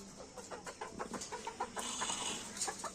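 Chickens being fed chopped cabbage, clucking in short repeated bursts at close range, with a steady farmyard background.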